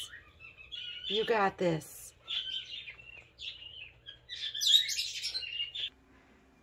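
Small birds chirp and tweet at a backyard feeder in short bursts, mingled with a nearby person talking.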